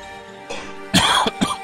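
A few sharp coughs close by, a soft one followed by a loud burst of two or three and then a final cough.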